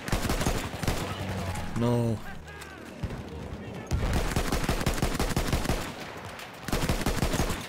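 Rapid bursts from the Kolibri gun in a video game, loud machine-gun-like firing in several long strings separated by short gaps, with someone speaking briefly in between.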